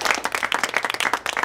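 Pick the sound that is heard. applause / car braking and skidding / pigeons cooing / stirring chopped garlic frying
applause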